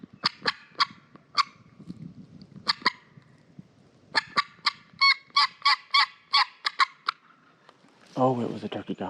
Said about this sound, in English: That had to be a turkey I just heard.